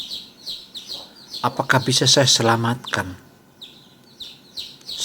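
A baby chick gives repeated high thin peeps, short bursts at the start and end, while someone talks loudly over the middle.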